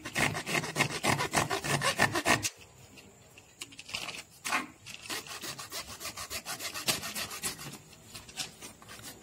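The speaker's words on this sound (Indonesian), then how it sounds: "Langsung saja saya gergaji." A hacksaw cuts through a PVC pipe in quick, rhythmic back-and-forth rasping strokes, loud and close. The strokes pause briefly, then resume in more irregular strokes.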